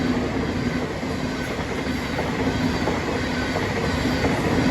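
Class 377 passenger train on a south London line passing close by on a service to Brighton: a loud continuous roar of wheels and rails with faint clatter, holding steady and building slightly toward the end.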